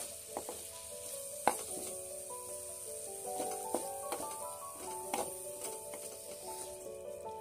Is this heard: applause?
no